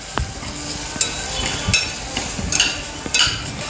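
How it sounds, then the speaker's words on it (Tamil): A spoon stirs peas masala in a pan, scraping and clinking against the metal in irregular strokes over a soft, steady sizzle, close up, with no talking. "இதையும் சேர்த்து நல்லா கிளறி விட்டுடலாம்."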